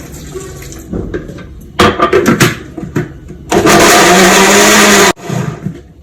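Water is poured into a blender for making tomato juice: some clattering handling, then a loud, steady, close pour lasting about a second and a half before stopping abruptly, with no talk.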